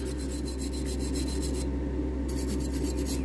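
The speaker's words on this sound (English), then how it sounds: "I normally start off initially with one of these, a brass brush, just to get, you know, I tack it with this first" A brass brush scrubs a 1959–65 Dinky Toys Berliet diecast flatbed truck during restoration, giving quick, rhythmic rasping strokes up close over a low, steady hum, with a brief pause midway.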